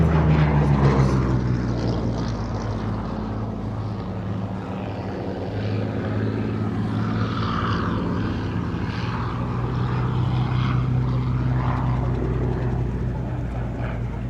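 A Hawker Hurricane propeller fighter with its Rolls-Royce engine flies over a Battle of Britain air show at Duxford, the loud droning engine roar sustained and fairly close throughout, with no talk.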